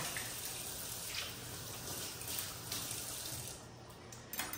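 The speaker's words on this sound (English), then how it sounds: "I'm done with the knife. just give it a quick rinse right now." A knife is rinsed under a running tap, a faint steady stream of water splashing in a sink, continuous and soft throughout.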